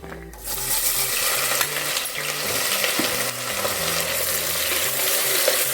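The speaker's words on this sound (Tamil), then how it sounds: "இந்த வெங்காயம் நல்லா வதங்கட்டும்" Chopped shallots sauté in a pan for a country chicken gravy, starting with a brief clink before a steady close sizzle settles in, with intermittent stirring scrapes and taps.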